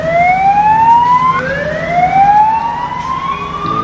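An ambulance siren wails loud and close, a rising two-tone sweep that repeats several times over steady road rumble, with no talk.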